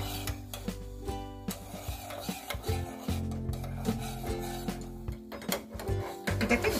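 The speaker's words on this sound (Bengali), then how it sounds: "এই যে জুসটা বার করেছিলাম সেটাকে আমি এখন একটু ফুটিয়ে নেব, এবং এটাকে কনস্ট্যান্ট নাড়তে হবে।" Juice being boiled down and thickened in a pan while being stirred constantly, with repeated close scraping and rubbing strokes against the pan over a bubbling background.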